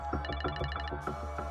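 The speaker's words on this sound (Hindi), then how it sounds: "पता नहीं राजा सर ने फोन क्यों किया।" A telephone rings with a repeating electronic tone, close and clear, in regular pulsed bursts with no talking.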